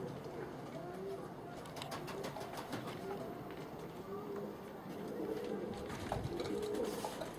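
Pigeons cooing softly in the distance, a few low repeated coos over a hiss of outdoor noise, with faint voices in the background.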